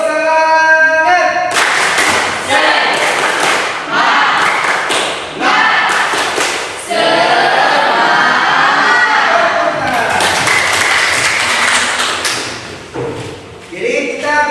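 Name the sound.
class doing a 'tepuk semangat' spirit clap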